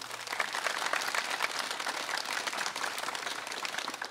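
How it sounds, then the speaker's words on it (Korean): TV studio audience at a broadcast special on jobs gives a round of applause, a soft, fairly distant and even wash of many clapping hands lasting several seconds without speech. "박수 한번 주실까요?"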